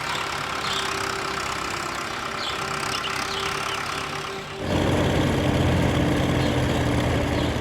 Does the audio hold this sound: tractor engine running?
yes